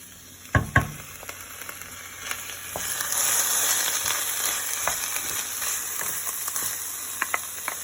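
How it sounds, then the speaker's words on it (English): Marinara sauce sizzles in a pan with lentils, a steady frying hiss with a couple of sharp clunks as it goes in and light stirring taps, close and alone. "now I'm going to add marinara sauce."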